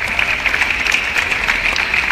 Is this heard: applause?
yes